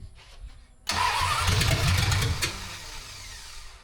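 The small block engine of a 1974 Dodge Dart Swinger cranks over after a quiet moment, a loud, close starter churn with rhythmic pulsing lasting about a second and a half, then dropping to a lower rumble.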